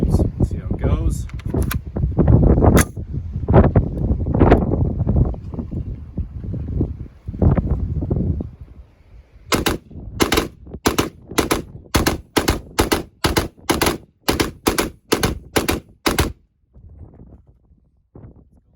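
Rifle fitted with a Franklin Armory binary trigger and Reformation parts firing Doubletap ammunition, a quick run of a dozen or so sharp, loud shots in rapid pairs, after a stretch of talk and handling noise outdoors.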